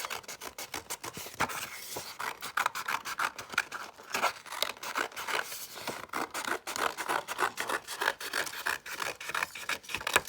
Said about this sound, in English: you're going to take your scissors, keep it folded, and cut around